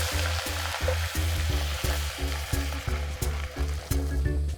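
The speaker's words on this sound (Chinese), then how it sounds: "现在我们可以调大火，然后倒入清水，加水没过这些虾头" Water poured into a hot wok of stir-fried shrimp heads over high heat, a loud close sizzle with a steady pulsing bubbling rhythm running throughout.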